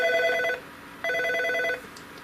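A Norstar phone system line rings in two electronic trilling bursts separated by a short pause, loud and close with no talking.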